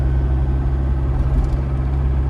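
Steady low diesel engine rumble from a 1995 Range Rover County while driving, a continuous close drone without clear gear-change breaks.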